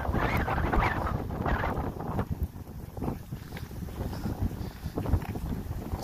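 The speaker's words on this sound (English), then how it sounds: "And now I have this crazy wind I'm dealing with." Strong gusting wind buffets a wireless lavalier microphone outdoors, a loud continuous rumble and roar that surges and dips for several seconds with no speech.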